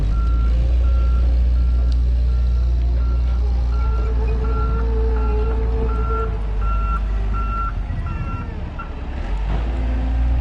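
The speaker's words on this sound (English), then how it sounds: "That thing sure does do a lot of beeping." A truck's reversal alarm beeps steadily and repeatedly over a loud idling diesel engine rumble at a landscaping site, the evenly spaced tones running throughout.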